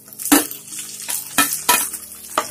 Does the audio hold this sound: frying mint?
yes